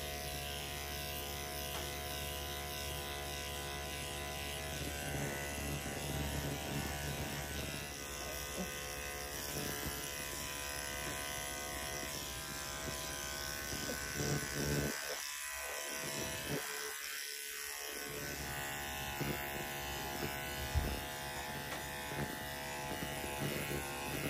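Electric dog clippers fitted with a 5F blade shave a dog's body, a steady close buzzing drone that continues throughout with slight changes in pitch as the blade moves through the coat.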